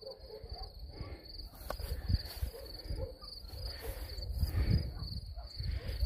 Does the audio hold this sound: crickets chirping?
yes